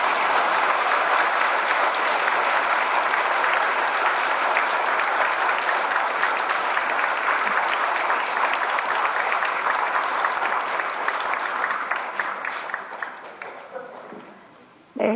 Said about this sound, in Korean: 우리 주견님께 다시 한번 큰 박수 부탁드리겠습니다